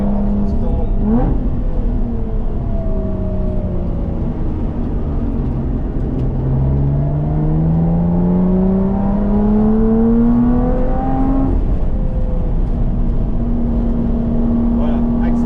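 Lotus Evora 400 engine on a race track, a continuous loud droning roar with pitch rising and falling through acceleration and shifts, heard from inside the car with a voice talking over it.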